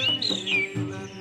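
Birds on a bird island in Aswan chirp and tweet close by, a few bright descending calls layered over a steady tonal hum.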